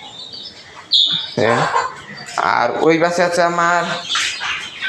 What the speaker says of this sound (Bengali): দ্বিতীয় ব্যাচের বাচ্চা আর কি, দেশি মুরগির।